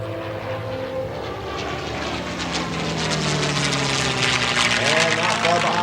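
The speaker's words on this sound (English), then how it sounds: "as our second P-51 comes in from your left" A P-51 Mustang WWII propeller fighter flying past at an air show, its engine drone swelling louder and shifting pitch as it approaches, with an announcer speaking over it.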